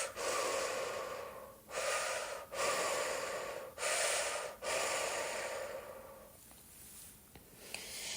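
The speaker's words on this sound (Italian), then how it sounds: "trasforma il tuo respiro con un ritmo circolare" Deep, connected circular breaths taken close to the mic, long airy inhales and exhales flowing in a steady cycle of about five breaths, then fading softer at the end.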